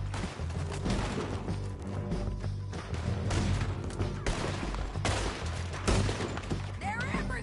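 Gunfire in Red Dead Redemption 2 rings out as a dense battle, with repeated loud shots cracking in quick, irregular bursts over a constant rumble while voices call out between them.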